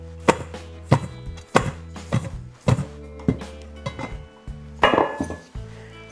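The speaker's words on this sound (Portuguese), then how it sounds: "é assim que eu mexo as batatas." Potatoes tossed with vinegar in a kitchen pan, giving a run of hard, irregular thunks and knocks from the utensil striking the pan, fairly close.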